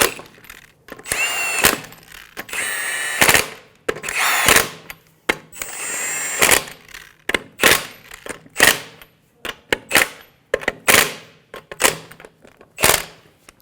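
Power tool driving the five wheel lug nuts onto a Honda Pilot, loud repeated short whirring bursts with sharp impact-like chatter, separated by brief pauses, close and alone without talk.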